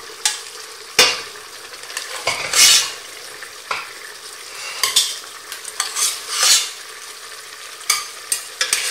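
Lamb pieces being lifted from a cooking pot of tagine sauce, with utensil scrapes and clinks against the metal over a soft, steady simmering sizzle.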